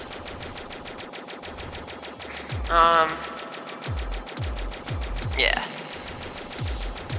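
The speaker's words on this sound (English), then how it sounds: "Even more powerful machine gun." A piercing machine gun in the sci-fi game Stellar Interface fires a fast, continuous stream of rounds with deep booming thuds underneath, while a voice speaks briefly over the gunfire.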